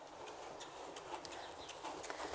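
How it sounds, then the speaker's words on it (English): A dressage horse trotting in an arena, giving a steady two-beat rhythm of hoof falls, faint and continuous against low background noise. "So we're looking in the trot, we're looking for the horse that we're going to ride as a dressage horse."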